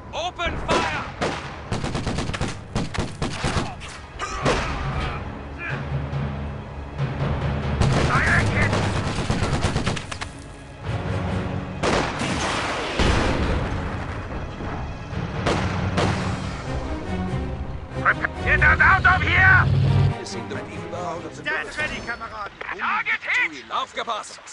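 Western Front combat in the video game Company of Heroes 2, with rattling rifle and machine-gun bursts, repeated heavy artillery booms and explosions, and soldiers shouting orders throughout the sustained, chaotic battle.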